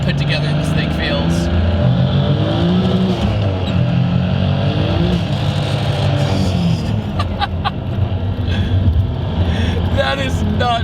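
A Toyota Cressida making 820 wheel horsepower accelerates hard on a rainy day, its engine note rising and shifting under steady in-cabin drone while people talk over it.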